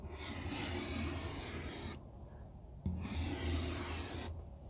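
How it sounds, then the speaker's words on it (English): Frost scraped off the window of a D9H bulldozer, two close runs of rough rasping strokes separated by a short pause, fairly quiet, with no talk. "Maybe if I do this every morning, scrape the frost off, maybe I can get it off of there."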